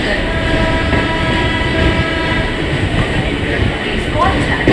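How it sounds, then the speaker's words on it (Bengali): A train rumbles loudly and steadily on its tracks, building as it pulls away from Howrah station. Voices murmur faintly beneath the noise. "সঠিক সময়ে হাওড়া স্টেশন থেকে ট্রেন ছেড়ে রওনা দিল তার গন্তব্যস্থলের দিকে"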